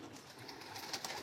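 Racing pigeon cooing softly, a faint, low murmuring coo repeated a few times over a quiet background.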